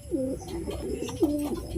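A pigeon kept for sale coos nearby in two soft, throaty phrases about a second apart, over light background noise and no talk.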